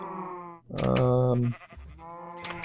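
Sheep bleat in Minecraft's Feed The Beast modpack, a few wavering, nasal calls close by with short gaps between them and no talking over them.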